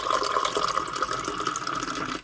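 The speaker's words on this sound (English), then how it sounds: "then I add the cold water" Cold water pours steadily from a tap into a cup of coffee, a close, continuous splashing fill that runs for a couple of seconds and then cuts off.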